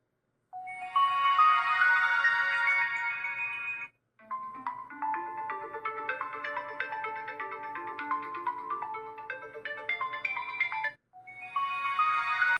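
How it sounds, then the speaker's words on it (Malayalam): An Oppo K12x 5G phone plays its ringtone through the built-in speaker, a bright melodic tune looping in phrases with two short pauses, moderately loud and heard alone. "നമുക്ക് ഈ ഫോണിൻ്റെ സൗണ്ട് എന്തായാലും ടെസ്റ്റ് ചെയ്ത് നോക്കാം"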